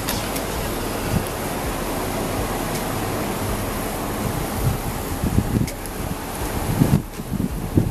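Strong gusting wind outdoors buffets the microphone, rumbling low and swelling louder toward the end, with no talk over it.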